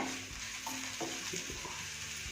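Thickly chopped onion fries in oil for palak pulao, a soft sizzle with a few light stirring scrapes and clicks close by.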